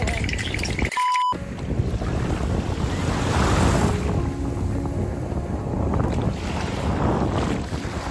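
Strong wind buffets the microphone on a Miami beach, roaring loudly and continuously with gusts over surf, and no clear talk.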